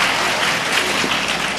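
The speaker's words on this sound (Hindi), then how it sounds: "बहुएं ताली तो बजा दो" A seated audience at a Hindi religious discourse on family life bursts into dense, loud applause, a continuous crackle of many hands filling the short moment with no talk on top.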